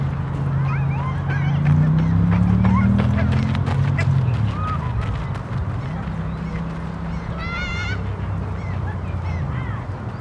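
A flock of barnacle geese honks loudly and continuously during a squabble in Helsinki, with overlapping calls from several nearby birds over a low rumble.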